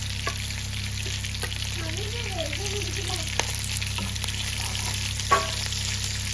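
Curry leaves sizzle steadily in hot oil for a fish head curry, a constant close frying hiss with a few faint stirring knocks and no talking.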